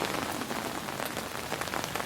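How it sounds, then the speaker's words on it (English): Steady, dense rain patters onto tarps rigged for harvesting rainwater, a continuous close hiss of drops with no pauses or voices. "it's raining again"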